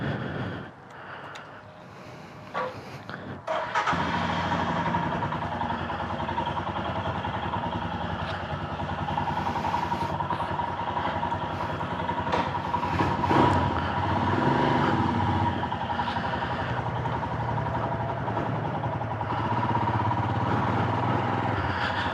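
A 2020 Royal Enfield Himalayan 411cc single-cylinder motorcycle rides on a loop, its engine droning steadily and close after a brief quieter start, with road and wind noise throughout.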